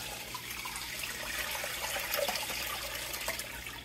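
Water pours steadily into a DIY nano reef tank refugium, a soft, continuous splashing and trickle heard up close and fairly quietly.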